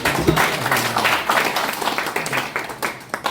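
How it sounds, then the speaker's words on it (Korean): An audience at a lecture claps steadily, a fairly loud burst of overlapping hand claps continuing throughout without speech. "큰 박수 한번 해주세요."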